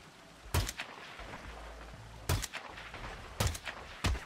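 Sniper rifle shots in the stealth video game Hitman 2: four sharp, loud reports in a rough pattern, each with a brief booming tail, over low game ambience with no talk.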